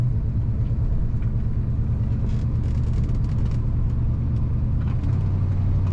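A 1972 Pontiac Grand Prix SJ drives and corners, its engine a steady, loud low rumble heard from inside the car with continuous road noise throughout.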